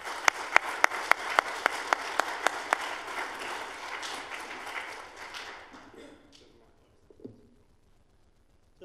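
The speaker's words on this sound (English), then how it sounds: "So if we can give a round of applause." An audience at a coding school demo day applauds with broad, dense clapping, a few sharp claps standing out early, and it fades away over several seconds until only stray sounds remain.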